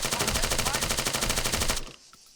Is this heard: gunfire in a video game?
yes